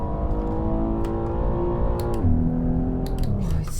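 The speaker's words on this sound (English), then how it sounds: "I love the sound that V6s make." Twin-turbo V6 of a Maserati Levante SUV in the Assetto Corsa racing game, heard from inside the cabin as a steady, smooth hum that climbs under acceleration, then drops at a gear change and builds again, moderately loud throughout.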